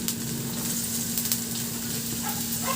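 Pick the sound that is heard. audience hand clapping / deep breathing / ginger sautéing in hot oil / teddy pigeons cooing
ginger sautéing in hot oil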